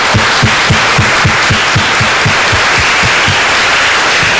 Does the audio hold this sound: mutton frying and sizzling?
no